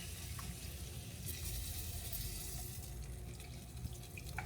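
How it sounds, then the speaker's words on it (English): Homemade chicken bouillon, about three cups, is poured into a pot in a home kitchen, a steady splashing pour of liquid that runs continuously at low volume with no talking. "We're going to pour every bit of it in there."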